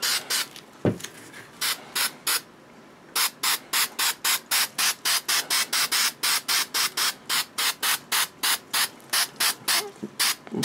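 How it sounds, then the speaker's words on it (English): Short repeated bursts of 3M Super 77 spray adhesive coating the inside of a prop helmet's armor piece: one quick spurt, then a steady run of rapid, evenly spaced hissing sprays, close and fairly loud, with no talking. "I'm going to spray 77 the interior of it."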